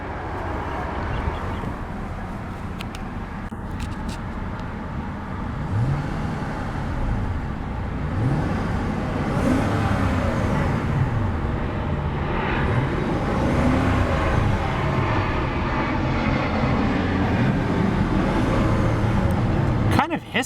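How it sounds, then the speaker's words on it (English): The 5.0-litre TAU V8 of a 2015 Hyundai Genesis idles, then is blipped repeatedly, each rev rising and falling in a smooth, loud arc, one after another over a steady engine drone. "let's see about a few revs of that 5-liter TAU V8 and see what kind of soundtrack she produces"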